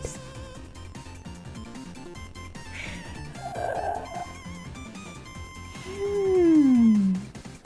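A house cat gives a long, drawn-out meow that falls in pitch near the end, loud and close, with a shorter, fainter cry earlier over quiet indoor background sound.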